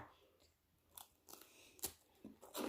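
Crispy Thai coconut rolled wafers (thong muan) being bitten and chewed up close, giving a few sharp, separate crunches spread across a mostly quiet stretch, with the last bite the loudest.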